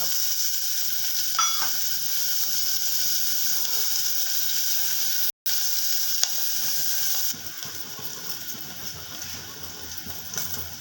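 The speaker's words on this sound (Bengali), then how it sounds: "এবার আমি পেঁয়াজগুলো দিয়ে দিলাম।" Onions sizzling in hot oil in a pan after garlic for an egg curry, stirred now and then, a steady close frying hiss with a brief cutout midway and no talk.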